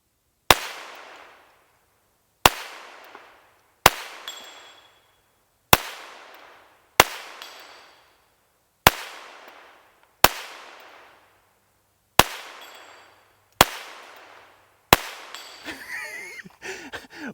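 Ten sharp gunshots from a Volquartsen Scorpion X pistol fired at a 4-inch target 100 yards away ring out at steady intervals of about 1.5 seconds, each with a short decaying echo, followed by brief faint talk at the end.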